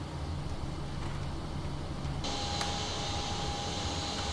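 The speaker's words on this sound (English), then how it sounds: "And start engine number 1." PMDG 737NGXu engine number 1 spooling up in Prepar3D v5: a steady whine joins the cockpit hum midway and holds as a constant tone, alone without talk.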